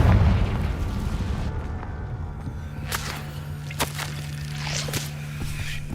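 In the video game Hogwarts Legacy, a Confringo spell goes off with a sharp whip-like crack and booming bursts. Whooshes follow and fade over a steady low hum, with no voices.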